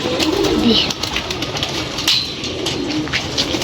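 Pigeons kept in a box coo and rustle close by, soft throaty calls repeating over a continuous hiss of background noise, with no talk.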